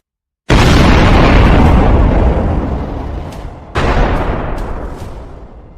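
HIMARS rocket strikes hit a Russian convoy as two heavy explosions: a loud sudden boom with a long rumbling decay, then a second blast a few seconds later, with faint distant pops in between.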